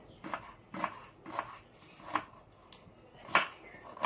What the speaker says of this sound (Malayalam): ഉള്ളി കട്ടാക്കണം